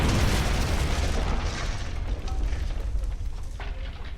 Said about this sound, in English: Explosion of smoke and fire